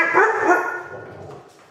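A dog barks and yips in a quick, excited burst close by, fading out toward the end.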